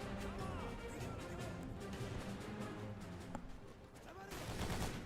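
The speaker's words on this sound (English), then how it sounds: "all the fucking mines in no man's land while mortars are raining down" Mortar and gunfire rumble through a World War II Pacific trench battle in Battle For The Pacific, a dense, continuous barrage of blasts and shots with one sharper crack near the middle and a louder burst toward the end.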